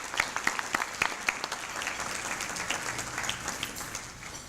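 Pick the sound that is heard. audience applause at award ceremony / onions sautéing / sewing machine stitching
audience applause at award ceremony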